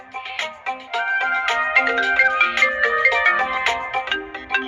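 A bright electronic phone ringtone plays a repeating melodic tune, loud and close, with no voices over it.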